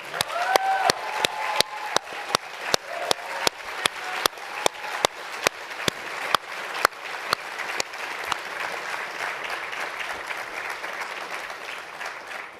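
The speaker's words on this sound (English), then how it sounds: "please, a big round of applause for them" An audience at a CureDuchenne conference event claps, starting with sharp, evenly spaced loud claps that quickly blend into a dense, sustained round of crowd applause before easing off slightly.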